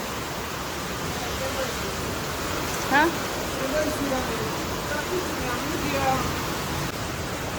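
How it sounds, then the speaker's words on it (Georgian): Steady rain falls outdoors as a constant broad wash, pooling into a large puddle, with faint low rumbles suggesting distant thunder; a brief voice is heard near the middle. "აი, ცაში გუგუნებს. წვიმა მოდის."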